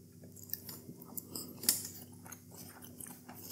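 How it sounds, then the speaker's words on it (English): Someone eats an onion snack from an Aldi plant-based menu, producing close, quiet crunchy chewing and biting with one sharper crunch partway through. "let's have an onion or two"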